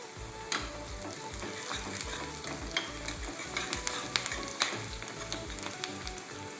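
A tempering of garlic, onion and curry leaves frying in oil for a chutney, a soft crackling sizzle with scattered sharp pops and spatters, fairly quiet and close.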